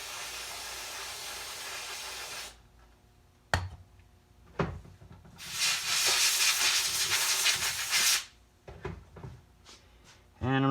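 Carb cleaner sprayed onto the floats of a Keihin FCR carburetor from an early Honda CRF, loud close hissing blasts, one long and several short bursts, with pauses between.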